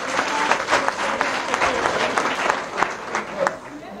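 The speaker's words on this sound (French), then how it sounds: "on peut l'applaudir." A crowd of residents in Abidjan applauds a newly named high representative, a lively patter of many hands at close range with a voice speaking over the clapping.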